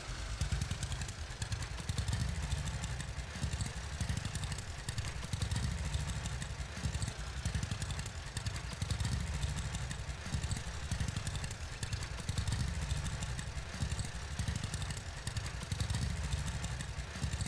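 A tractor engine in the farming game Farmers Dynasty, bouncing over bumpy ground: a steady, fairly quiet mid-pitched motor drone with a rattling clatter, running unbroken with no talk.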